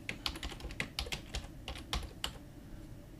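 Computer keyboard keys tapped in a quick, irregular run while text is entered in AutoCAD, crisp and close, with nobody speaking.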